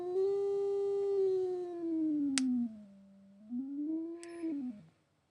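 Synthesized pure tone steered by mouse movement, sliding smoothly down in pitch, dipping low, then rising and falling again before cutting off. It is steady and fairly faint, with a couple of brief clicks and no talking.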